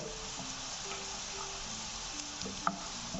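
Half a teaspoon of white cumin seeds sizzling in hot oil over browned onions for a daal tadka, a steady quiet crackle with a few sharp pops and a brief clink near the end.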